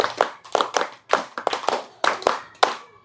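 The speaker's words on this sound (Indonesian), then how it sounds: "tepuk 2, tepuk 3, tepuk 4, tepuk 5, tepuk 5 2 kali" A classroom of students claps a counted pattern in sharp, close, synchronized groups, short clusters of two and three claps separated by brief pauses, crisp and percussive with almost no voices.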